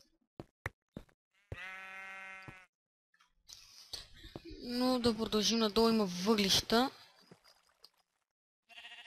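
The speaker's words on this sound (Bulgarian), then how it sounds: "Може да било овца. Вероятно е било овца." A Minecraft sheep bleats with a wavering, drawn-out cry after a few sharp clicks, and someone talks over part of it.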